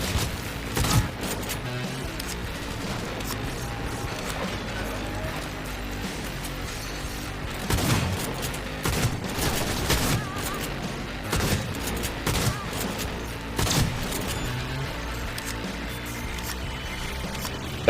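A video game cannon firing Quicksilver bullets lets off repeated bursts of gunfire, some clustered and rapid, at moderate loudness across about eighteen seconds.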